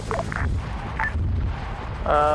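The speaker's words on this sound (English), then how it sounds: "That seemed like a 155 shell though, right? Not a mortar round?" A 155 mm artillery shell explodes in a Vietnam-era multiplayer video game, giving a loud, deep rumbling boom near the end amid a steady low background roar, with faint bits of speech earlier.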